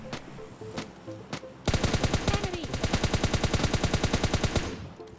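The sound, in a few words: gunfire from a bot in PUBG Mobile Lite video game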